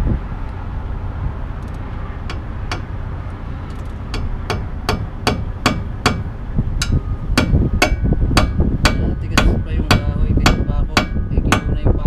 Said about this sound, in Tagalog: Tigas pa yung kahoy, isa pako natin ah.